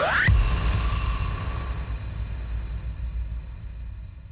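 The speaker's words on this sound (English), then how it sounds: "1 bar of a riser, half a bar of an impact could sound like this." A quick synthesized upward sweep, one bar long, snaps into a heavy booming half-bar impact made in MSoundFactory, which then decays into a long, noisy rumbling tail.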